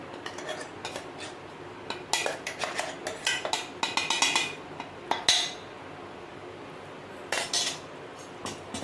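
Cashew modak mixture of ground cashew powder being stirred in a pan over a low flame, a spoon scraping and clinking against the metal in quick irregular bursts, close and fairly quiet with short pauses between strokes.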